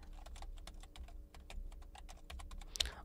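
Keys on a computer keyboard clatter quickly as an Aadhaar number is typed in, a close, even run of light taps ending in a sharper click.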